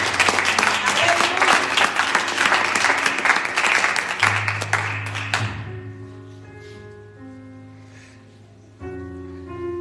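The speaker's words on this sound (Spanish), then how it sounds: "Den un aplauso, ahora sí, venga, den un aplauso." Church congregation applauding during a sermon, dense clapping for about five seconds that quickly dies away into sustained organ or keyboard tones that carry on alone.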